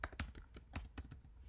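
Quiet keystrokes on a computer keyboard come in an irregular burst of about eight clicks over a second and a half, close and faint, with no talking.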